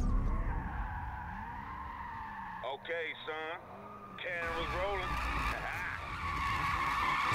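A car in the racing game Need For Speed 2015 roars as a race begins, with engine drone, skidding and tire squeal continuing while someone talks over it.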